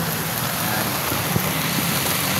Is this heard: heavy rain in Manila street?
yes